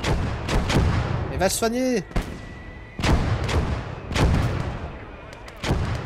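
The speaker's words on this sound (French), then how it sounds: "Il y a les mortiers allemands qui nous pilonnent la tronche" German mortar shelling in the WWII game Call to Arms Gates of Hell, heavy booming impacts repeating roughly every second amid battle noise, with a voice speaking briefly over it.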